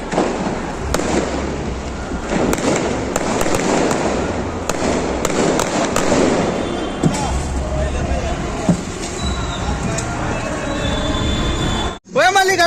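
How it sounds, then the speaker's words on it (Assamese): Firecrackers go off across a neighbourhood on New Year's night, with scattered sharp cracks over a steady rumble of distant bursts and background noise, and voices audible in the mix. Near the end the sound briefly cuts out. "পুৰা ফটকা ফুটাইছে"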